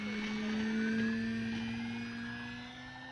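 An E-flite Carbon Z Cub SS RC airplane takes off from a cow pasture without flaps. Its motor gives a steady, fairly close whine whose pitch climbs slightly, then fades a little as the plane leaves.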